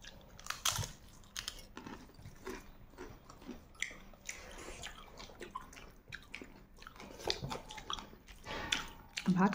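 Someone chewing and crunching on pieces of cut raw carrot at home, with irregular close crisp bites and mouth sounds that come in bursts, faint background noise throughout and no clear talking.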